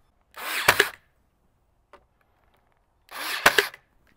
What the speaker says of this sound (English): we're gonna just go in with two staples really quickly